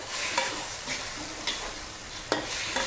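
Fish balls being stir-fried with sauce over high heat, a steady close sizzle broken by a few sharp scrapes and tosses of the pan.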